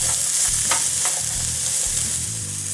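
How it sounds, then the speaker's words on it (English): Chopped onion fries in olive oil in a pan for a steak casserole, a loud, close, steady sizzle with soft scrapes and knocks of stirring. "we're just going to stir fry this just for a couple minutes"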